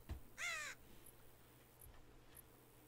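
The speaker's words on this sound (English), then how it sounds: "I hear a crow." A single harsh caw from a crow in the Rising World video game rings out clearly over a quiet background, followed by a few faint, brief high ticks.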